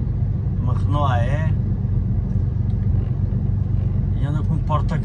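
A Renault AE truck rolling past, its steady low engine rumble running through the whole stretch while a voice speaks over it near the start and end.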